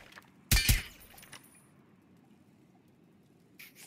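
A glass bottle shatters from gunfire in the game Rainbow Six Siege, one sharp, loud crash and tinkle of breaking glass, then quiet background with a faint clink near the end.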